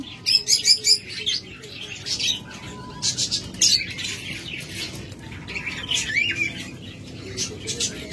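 Pet lovebirds, cockatiels and budgerigars chirp and squawk in a steady flurry of close, bright calls, with a voice talking underneath.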